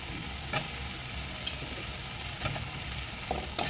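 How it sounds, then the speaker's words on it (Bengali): Potatoes frying in hot oil with spices in a pan in a home kitchen, a steady close sizzle with periodic scraping strokes of a spatula stirring about once a second. "তেল ছেড়ে দিয়েছে, আমি আলুগুলো অ্যাড করবো।"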